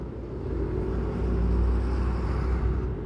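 Heavy trucks and other vehicles rumble steadily in dense road traffic, a loud, continuous low engine drone heard close by with no talk.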